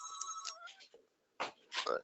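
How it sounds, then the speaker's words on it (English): A phone ringtone chimes in short tonal bursts at the start, then a voice speaks over it indoors during a lecture on qualitative psychotherapy research. "can you hear my phone ringing?"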